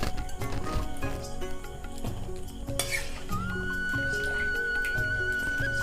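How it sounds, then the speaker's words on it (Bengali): Mushrooms being rinsed and stirred around in water in a pot or bowl, with continuous sloshing, clattering and dripping at close range and a sustained high whistle near the end, no talking. "আমি এবারে তুলে আবার ধুয়ে নেব আরেকবার"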